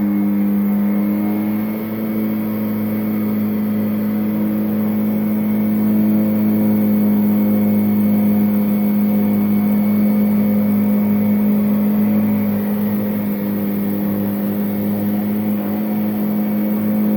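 A Kirby Avalir vacuum cleaner runs continuously with a steady, loud motor hum and airflow whine that barely changes in pitch from start to finish, with no talking.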